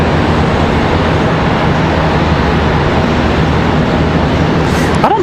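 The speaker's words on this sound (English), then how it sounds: "Got an A319 on final. American Airlines 2674 from Boston." An American Airlines Airbus A319 landing at Charlotte Douglas airport, a steady loud broadband roar of jet engines and rushing air throughout, close and continuous with no talk.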